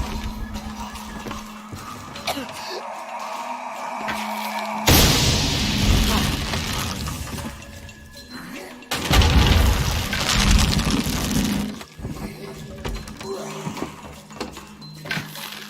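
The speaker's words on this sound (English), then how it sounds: "Have to create an explosion." Explosions in a video game during a live stream, two heavy booming bursts with rumbling tails among game noise and softer thuds, loud and close.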